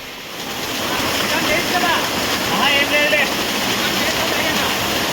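Vasudhara waterfall in Andhra Pradesh pours with a loud, steady rush of water, and people talk over the roar.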